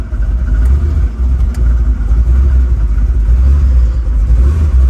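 A 1941 Willys coupe with a big block Chevy engine rumbles steadily at low speed, a loud, deep, continuous drone with slight swells as it idles down the road.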